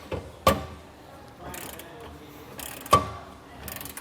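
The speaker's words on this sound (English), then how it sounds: "we want to make sure we get this torqued down properly on all the different sides." A torque wrench tightens hardware on a B&W Companion gooseneck-to-5th-wheel trailer hitch adapter, giving two sharp metallic clicks a few seconds apart amid quieter ratcheting and handling noises, close up.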